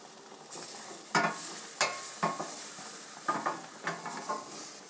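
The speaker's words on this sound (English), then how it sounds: "So you're going to stir constantly for 1 to 2 minutes." Tomato paste stirred in a hot pan for roasted red pepper pasta, quiet frying sizzle under a series of sharp spoon scrapes and clinks against the pan, recurring unevenly and close up.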